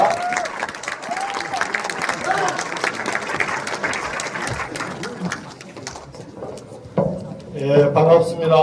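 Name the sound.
audience applause welcoming a speaker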